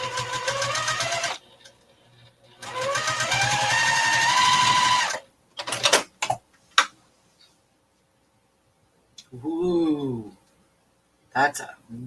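Domestic sewing machine running a 1.5 mm straight stitch around the corners of a zipper pouch, in two sustained whirring bursts of several seconds each, followed by short stop-start runs and a brief voice.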